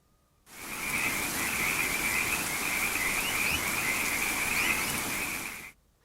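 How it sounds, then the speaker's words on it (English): Frog croaking from a Keynote animation of a frog eating a mosquito: a dense, steady chorus of croaks runs without pause for about five seconds, starting and stopping abruptly, with no voices. "Now let's add a mosquito being eaten by a frog."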